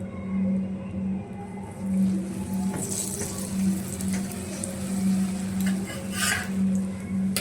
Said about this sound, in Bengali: এরপর এর মধ্যে তেল দিয়ে দেব